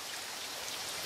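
Rain falls steadily as a dense, even hiss of drops, continuous and moderately quiet over a short stretch.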